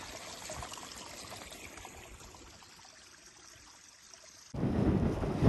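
Soft trickling stream water runs steadily in woodland near Scarborough with faint outdoor hiss, then a louder rush of splashing flow takes over near the end.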